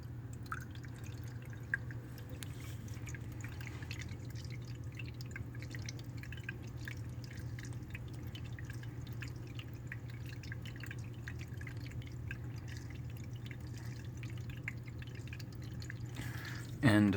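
A Sunnydaze indoor stacked-rock illuminated tabletop fountain trickles steadily, a soft continuous dripping held close with a low hum beneath it, ending in a brief handling bump.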